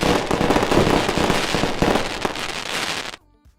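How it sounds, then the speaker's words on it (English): Fireworks sound effect: a dense, loud barrage of crackling bursts and pops lasting about three seconds, then cutting off abruptly. "and some fireworks"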